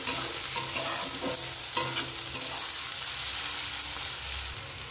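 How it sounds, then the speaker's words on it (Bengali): Capsicum and mixed vegetables sizzle steadily in a pan for restaurant-style fried rice, stirred with occasional scrapes, loud and close with no talking. "তো এটা ভালো করে ভেজে নিতে হবে।"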